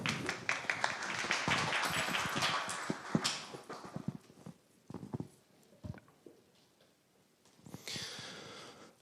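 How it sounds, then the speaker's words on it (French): A church congregation at a French-language Sunday sermon breaks into dense applause that fills the first few seconds, then thins out into scattered claps and quieter room noise, with a short burst of clapping returning near the end. "On peut applaudir Abramo."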